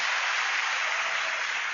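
Dense, steady applause from a large crowd of about 5,500 people, a broad hiss of many hands clapping at once without pause.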